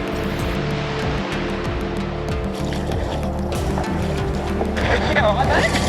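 Dumping surf at Bondi Beach during a rescue, churning ocean waves in a continuous loud wash with voices talking over it.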